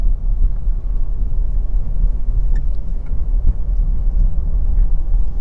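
Inside a car driving on a driving-test route in Bletchley, Milton Keynes, a low steady road rumble and engine drone carries on at an even level with no speech.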